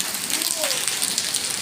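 Rain falling steadily outdoors in Lahore as a hailstorm begins, a dense close patter of drops and hailstones striking surfaces, continuous and fairly loud, with a faint voice briefly audible underneath.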